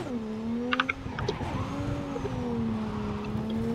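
A car slides and drifts across offroad terrain in Cyberpunk 2077, its engine droning steadily with rising and falling pitch and brief tire skids, close and continuous throughout.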